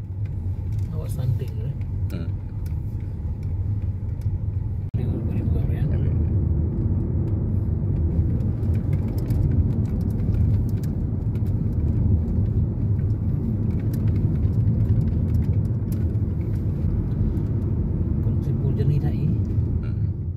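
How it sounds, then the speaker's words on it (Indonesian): Steady road traffic of mixed vehicles rumbles past on a busy road near Cot Panglima, a continuous loud engine and tyre roar that swells slightly partway through. "Lintasan ruas jalan kawasan Cot Panglima tetap ramai dengan berbagai jenis kendaraan arus mudik dan kunjungan lebaran serta wisatawan"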